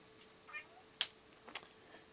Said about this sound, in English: We have a kitty cat.